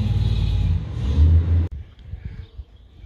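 A big truck rumbles past, a loud, deep engine drone that swells over about a second and a half, then cuts off abruptly, leaving faint background sound.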